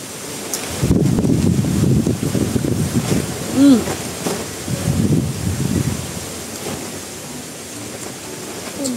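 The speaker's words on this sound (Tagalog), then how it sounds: "Grabe, yung malakas ang hangin." Strong wind buffets the microphone in heavy low gusts, with brief voices heard faintly in between.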